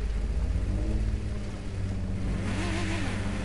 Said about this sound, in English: your car sounds amazing